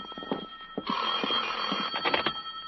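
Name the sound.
telephone ringing, radio drama sound effect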